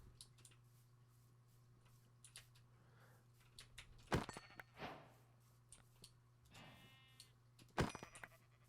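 Sheep in the Minecraft video game give a few short bleats spread across the stretch, over a steady low background hum, with sharp clicking game sounds popping in between.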